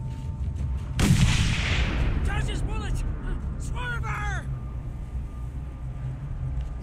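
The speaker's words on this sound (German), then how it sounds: "Benutzen wir ein bisschen mal hier einen Sniper." A sniper rifle fires in the Mad Max video game, one sharp loud report followed by a decaying boom, with game sounds and chirps after it, and someone talking throughout.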